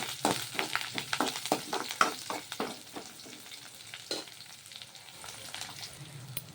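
Onion, curry leaves and coriander frying in oil in a pan for sweet corn rice, with a steady sizzle and a run of quick scraping stir strokes that thin out toward the end, no talking.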